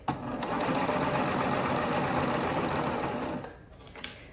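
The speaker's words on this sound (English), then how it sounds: "We're just gonna go nice and slow and sew these raw edges closed." A sewing machine stitches the raw edges of leggings closed at a slow, steady pace, a close, continuous mechanical whir and rapid needle patter lasting several seconds before stopping with a couple of soft clicks.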